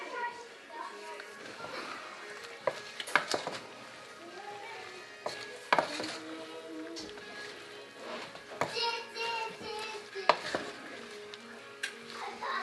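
Jalapenos being stirred through hot sugar syrup in a pot for cowboy candy, a spoon scraping and sloshing with small knocks against the pot while a person talks over it.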